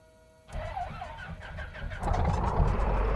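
The piston engine of a Piper PA28-236 Dakota being started in a flight simulator: a brief cranking whirr, then the engine catches and settles into a steady, fairly loud mid-pitched running drone.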